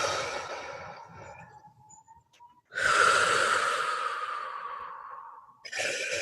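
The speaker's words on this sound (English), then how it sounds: "And just welcome in a few deep breaths." Deep breaths taken during a guided relaxation session, close and airy: a long quieter exhale, then a strong full breath lasting nearly three seconds that tapers off, followed by the start of another, with no speech.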